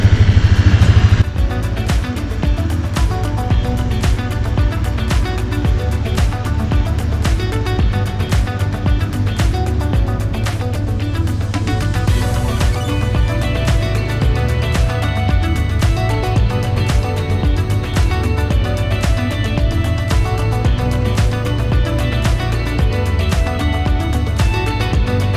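A John Deere 4320 tractor drives on a hill, its engine running loud and close with a steady, continuous drone and a rapid rhythmic chug throughout, with no talk over it.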